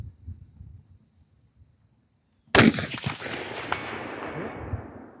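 A single sharp, loud crack from a Palmetto AR-15 rifle fired outdoors at a 300-yard steel plate, coming after near silence and trailing off into a long rolling echo and rumble.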